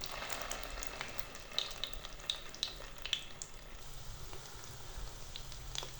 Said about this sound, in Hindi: टिक्कियों को हम हल्की आंच पे पकाएंगे